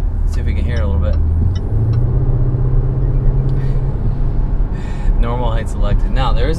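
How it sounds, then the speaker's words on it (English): A 2020 Range Rover Velar SVAutobiography's engine and exhaust produce a steady low rumble heard from inside the cabin while driving, running continuously beneath a person talking. "you can hear this monster engine and the exhaust right behind you"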